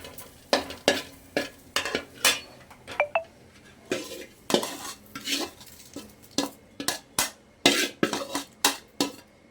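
Dry lentils and chillies being stirred in a dry pan with no oil, a close, rhythmic run of scraping and rattling strokes with clinks of the spoon against the metal, roughly one stroke per half second.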